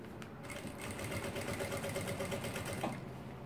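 A domestic sewing machine stitches along nylon fabric, a faint, steady mechanical whirring hum with rapid needle rhythm running continuously from start to finish.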